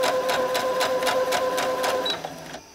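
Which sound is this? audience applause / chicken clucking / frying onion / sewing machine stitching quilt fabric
sewing machine stitching quilt fabric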